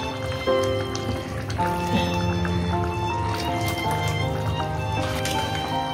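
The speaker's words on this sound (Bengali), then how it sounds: "এবার একটু জলটা এখানে দিয়ে দেবো, আর একটু দিই কারণ জলটা টেনে যাবে।" Water is poured into a pot of chicken and whole lentil dal with potatoes, a steady splashing trickle heard close up for several seconds.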